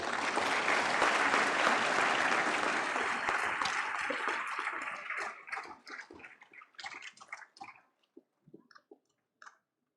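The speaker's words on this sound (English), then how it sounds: "Loud applause, please, everyone." An audience claps loudly and steadily, the applause thinning out into a few scattered claps at the end.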